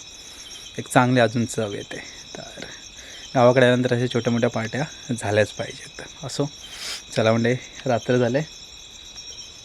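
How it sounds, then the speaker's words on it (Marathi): Crickets chirp at night in a steady, shrill drone throughout, while someone talks in the foreground. "रातकिड्यांचा मस्त आवाज येतो आहे"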